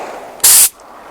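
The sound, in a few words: paint spray gun spraying base coat on Fazer 600 motorcycle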